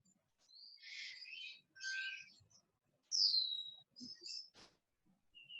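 Several birds chirp and tweet near a house, giving short, scattered calls and one sharper whistle, fairly faint against an otherwise quiet background.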